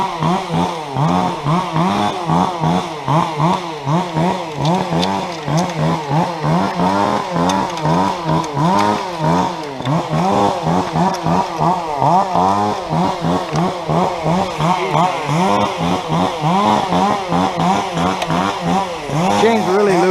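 A chainsaw with a loose chain runs up in a tree, its engine droning loud and close with steady rhythmic pulsing throughout.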